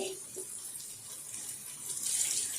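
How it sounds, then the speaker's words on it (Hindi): A glass of water is poured into a cooking pot of fried potatoes for a ginger garlic aloo sabzi, making a steady splashing rush that swells louder near the end, with no talk. "1 गिलास मैं पानी डाल रही हूँ, ठीक है, जिससे हमारे आलू गल जाएं"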